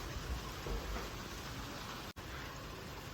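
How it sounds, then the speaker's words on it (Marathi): Rain falling outdoors during a monsoon shower, a faint, steady, even hiss of drops with no voices, continuous for the whole short stretch. "आता पाऊस चालू झाला आहे"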